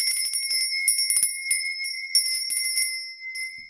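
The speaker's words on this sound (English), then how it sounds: "Now, I'm going to be ringing a bell." A small bell rings in bright repeated shakes and bursts, with a sustained high ringing tone beneath, close and clear, with no talking.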